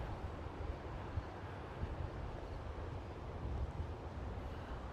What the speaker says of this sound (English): The wind is a little more forceful than I thought.